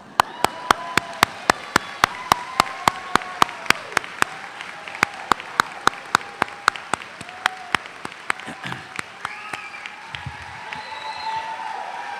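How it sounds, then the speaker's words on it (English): An audience at a graduation ceremony claps in a sustained round of applause, with sharper individual claps standing out over the crowd, gradually thinning toward the end. "It says here that I lead the applause, so let's have some applause."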